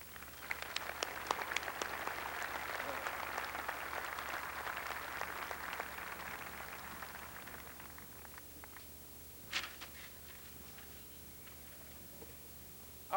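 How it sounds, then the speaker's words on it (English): Audience applause fills a large hall at a concert, a dense, steady wash of clapping that thins out after about eight seconds, with a few scattered claps trailing off. "I think they all deserve our thanks and our applause."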